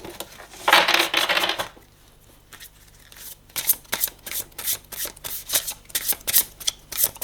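Tarot cards riffle in a brief rasping burst near the start, then after a pause come a run of sharp papery flicks and slaps as cards are drawn and laid down one after another, with no talking.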